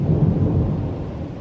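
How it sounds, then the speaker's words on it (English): Thunder from a nighttime thunderstorm, a loud deep rolling rumble that swells and slowly fades, with no voices over it. "there's a thunderstorm happening now"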